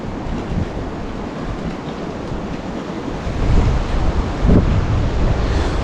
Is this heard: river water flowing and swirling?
yes